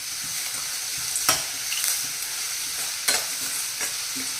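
Onions frying with salt in a pan for beetroot palya hiss steadily, with two sharp scrapes of a spatula as they are stirred, and no voices.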